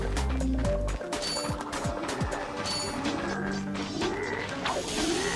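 Bolts are collected in the video game Ratchet & Clank as a rapid run of metallic clinks and pickup chimes over clanking mechanical effects and smashing crates, with no talk.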